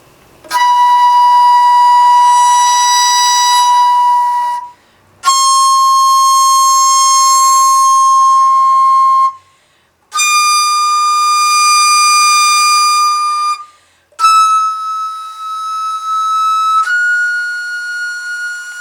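A Korean daegeum bamboo flute plays four long sustained tones, each rising higher than the last. Short breath pauses separate the notes, and the sound is loud, close and bright.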